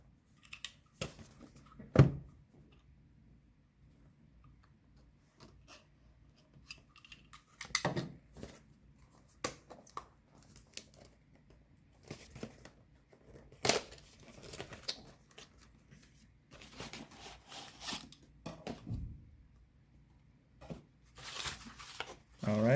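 Retail packaging for a white Razer DeathAdder Essential mouse, printed in Chinese, being opened with scattered close crinkles, rips and cardboard knocks separated by quiet pauses, plus a few louder handling thumps.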